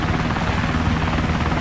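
An autogyro in the video game DayZ on the Namalsk map drones with a steady loud engine roar and whirring rotor chop, continuous and close throughout with no pauses.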